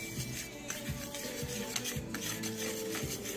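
Paprika being mixed into seasoned flour for pork chops, a close, steady rubbing and rasping of a utensil against a bowl in quick repeated strokes, with no talk.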